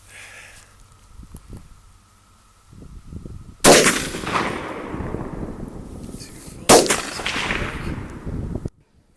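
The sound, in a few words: Savage Axis rifle gunshot at 100 yards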